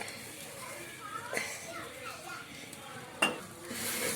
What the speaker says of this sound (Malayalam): വെളിച്ചെണ്ണ ഒഴിക്കാതെയാണ് തേങ്ങ വറുക്കാൻ പോണത്.